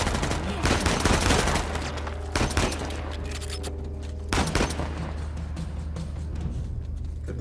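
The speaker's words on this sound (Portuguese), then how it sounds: "Eu tô sem paciência, eu vou descer o tiro nesses filha da puta." Gunfire in the video game Uncharted: The Lost Legacy, with dense bursts of automatic fire and scattered heavy shots crackling over a constant low game rumble for several seconds.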